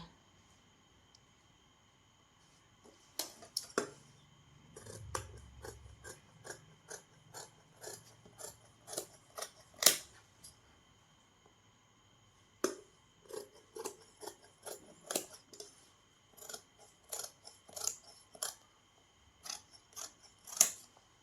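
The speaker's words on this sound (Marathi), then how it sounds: "अशा पद्धतीने बाही अगोदर कटिंग झाली आता आपण करणार आहोत पाठीचा भाग कट" Scissors cut blouse lining fabric laid under a paper pattern, a close, quiet series of crisp snipping clicks in irregular bursts, sometimes in rapid runs with short pauses between.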